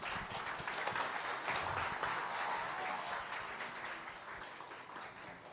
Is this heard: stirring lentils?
no